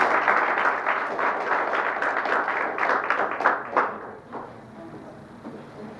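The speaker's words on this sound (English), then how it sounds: "let's give him a round of applause" An audience at a general meeting applauds as Michael Flaherty comes up, brisk indoor clapping from a modest crowd that thins out and fades over the last couple of seconds.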